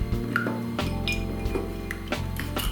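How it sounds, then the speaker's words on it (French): A spoon stirs a sugar cube into water in a glass, making a steady run of clinking and scraping taps against the sides, close and clear with no talking. "je mets ce morceau de sucre dans l'eau. Voilà. Et je mélange."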